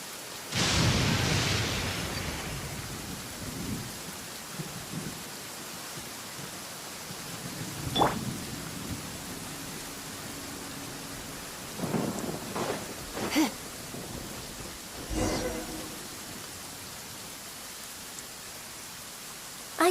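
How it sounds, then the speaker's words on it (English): Steady rain hisses throughout a Genshin Impact scene, broken by a loud thunderclap at the start and several sharper, fainter cracks and rumbles later, with no one talking. "It's raining."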